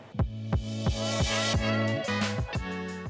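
Oster Pro 1200W blender running on a protein shake, a loud steady motor whine with rhythmic pulsing thumps about every third of a second as the contents churn, close and alone.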